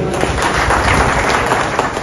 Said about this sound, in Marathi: मग टाळ्या वाजवावी.